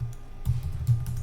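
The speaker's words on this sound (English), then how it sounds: "We can do that by pressing or by typing reboot." A few keystrokes on a computer keyboard as a reboot command is typed on a Raspberry Pi setup, several soft, close taps with no talk over them.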